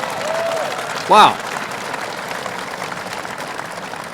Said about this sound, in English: And this great company, you could applaud that.